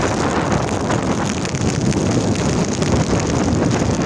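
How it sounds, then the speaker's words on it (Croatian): Strong storm wind roars continuously against the microphone, a loud, unbroken gusting rush with no let-up, battering the open air during a severe storm in Bosnia. "znači puše nenormalno"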